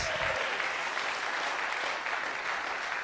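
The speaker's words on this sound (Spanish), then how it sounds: "Dele ese aplauso al Señor" A church congregation applauds together in a steady, dense wash of clapping that carries through the whole moment and stays fairly loud from start to finish.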